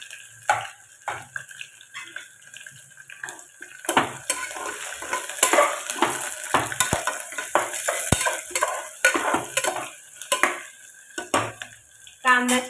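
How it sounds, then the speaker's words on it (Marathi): Onion sautéing in a pan with chopped chilli and curry leaves, a soft steady sizzle under repeated scraping and clinking stirs of a utensil against the pan, close and fairly quiet. "कांदा छान परतून घ्यायचा."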